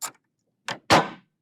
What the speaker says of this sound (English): I shall now unlock the door.